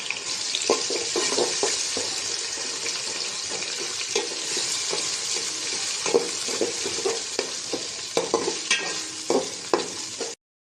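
Ginger and garlic paste fries in ghee with a dense, steady sizzle, punctuated throughout by frequent scraping spoon strokes against the pot, close and fairly loud until it stops abruptly.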